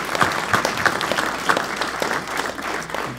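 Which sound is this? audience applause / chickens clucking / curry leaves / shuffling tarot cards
audience applause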